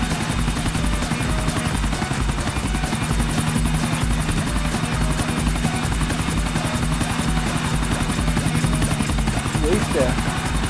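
Helicopter in the video game GTA IV, a loud continuous rotor drone that stays steady throughout, with speech mixed in.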